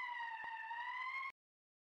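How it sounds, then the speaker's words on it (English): In the video game Valkyria Chronicles, a steady electronic emergency siren wails at one constant pitch for about a second and a quarter, then cuts off abruptly into silence, with no voices. "That's the emergency siren."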